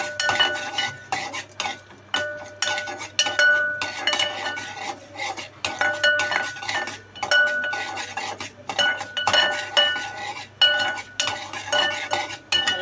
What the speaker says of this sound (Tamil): இப்போ கடுகு பொரிய ஆரம்பிச்சிருச்சு.